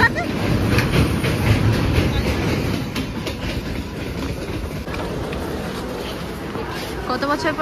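A train rumbles and clatters close by at Sealdah station in Kolkata, loudest at first then easing into rolling noise, with a person talking over it.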